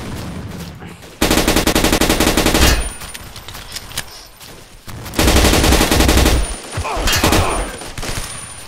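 A Spaz shotgun fired in Blockade 3D on the versusTowers map, close-quarters combat: loud bursts of rapid, repeated shots in two main volleys, with a shorter burst after and quieter gaps between.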